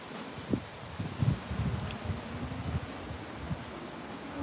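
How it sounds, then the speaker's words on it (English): Gusty wind in Las Vegas roars steadily into the microphone as a low, rumbling buffet with soft rustling, fairly quiet overall and with no speech. "It's so windy"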